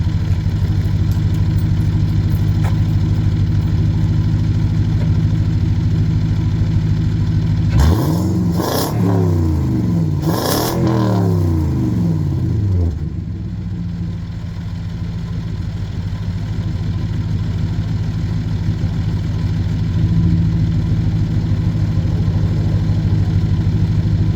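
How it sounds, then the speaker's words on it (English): A car engine fitted with a K&N drop-in air filter idles steadily and loudly, then revs up in a few rising and falling bursts before settling back to a steady idle. No one speaks. "let's see what the rev's like with a K&N filter"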